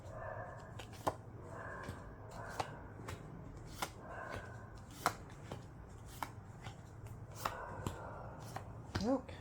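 Tarot cards being shuffled and laid down on a surface, soft riffles and crisp slaps at irregular intervals, close and faint.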